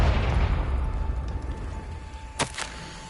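The Confringo explosion spell in the Hogwarts Legacy video game lands as a deep rumbling blast that decays slowly, followed by two quick sharp pops near the end, with no voice over it.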